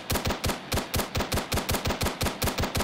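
Enemy gunfire in the military shooter game Arma 3 cracks out in rapid, evenly spaced bursts, a steady automatic rhythm of sharp shots at moderate level with no voices.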